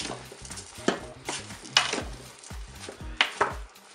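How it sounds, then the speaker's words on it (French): A spoon scrapes and knocks around a Cookeo pot while stirring tomatoes and rice, several close, irregular clinks and thuds over quiet background. "Je vais bien mélanger."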